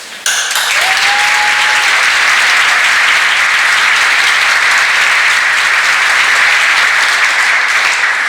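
Sustained applause and cheering from a large audience at a scholarship recipients ceremony, a dense continuous roar of clapping that holds steady for several seconds, with a brief whistle-like tone near the start.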